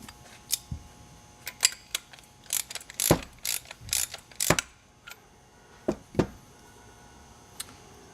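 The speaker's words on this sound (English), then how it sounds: "push that lower piston into place as you thread the ramp knob" Clicking and ratcheting of a mountain bike suspension fork's ramp control knob being threaded down while the lower piston is pushed into place, a series of sharp, close mechanical clicks in irregular bursts with quiet gaps between.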